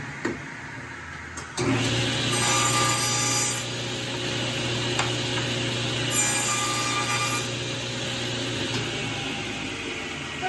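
A power drill whirs steadily into wood, a loud continuous grinding hum that rises in bursts and holds, with no talking.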